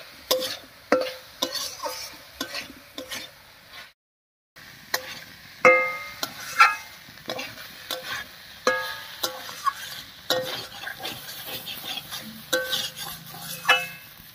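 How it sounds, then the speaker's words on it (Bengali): Rice and potatoes being stirred with spices in a pan while preparing a fish-head murighonto, giving repeated scraping and clinking of a spoon against the pan with some quiet sizzling, steady and close, with no talking. "এবার মশলার সঙ্গে খুব ভালো করে মিশিয়ে নিচ্ছি।"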